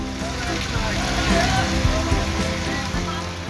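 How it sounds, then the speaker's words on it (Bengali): Heavy rain pours in Habiganj, Bangladesh, in the evening during a thunderstorm with gusty wind, a steady dense hiss of falling water that stays loud and continuous throughout. "দিন শেষে রাত ৮টার দিকে বৃষ্টি নামে হবিগঞ্জে"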